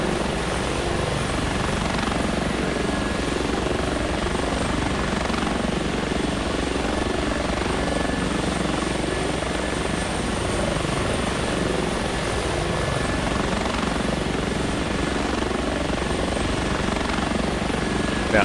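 A simulated H145 helicopter in the flight simulator X-Plane 11: a steady, close, loud rotor and turbine drone with a faint high whine, holding unchanged for the whole eighteen seconds.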